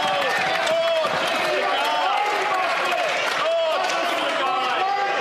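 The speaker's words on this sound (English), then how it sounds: "And they're getting booed again." Members of the Canadian Parliament during Question Period boo and jeer in a loud, continuous chamber-wide din, with voices rising and falling over one another.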